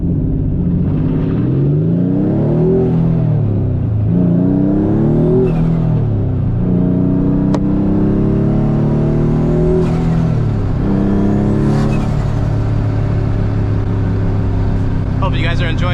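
A 500-horsepower Nissan S15 drift car roars loud and close, its engine note climbing and falling in repeated rev sweeps as it slides, with a brief sharper burst near the end.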